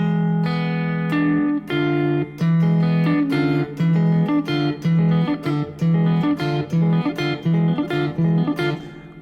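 Fingerstyle guitar plays an arrangement of The Stars and Stripes Forever, with a quick march melody ringing over a steady alternating bass line. The playing is bright and continuous, with crisp plucked attacks throughout and no voices.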